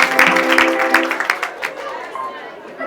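Congregation clapping and cheering in a church, a dense mix of handclaps and crowd chatter at full strength that thins out toward the end, with sung or chanted voices woven through the noise.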